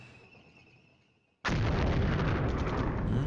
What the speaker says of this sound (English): And that's ongoing barrage.